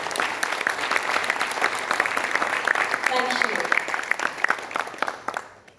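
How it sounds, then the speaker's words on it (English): Audience applause at a ministerial commerce event, a sustained crowd clapping with bright sharp hand strikes, a voice briefly speaking over it before the clapping tapers off near the end. "A huge round of applause"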